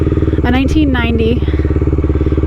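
Air-cooled single-cylinder engine of a 1990 Honda GB500 cafe racer motorcycle thumping steadily while riding, loud and close throughout, with someone talking over it.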